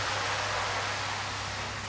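Hot water pours steadily into a pot holding passata, a continuous close splashing rush lasting the whole moment with no talk over it.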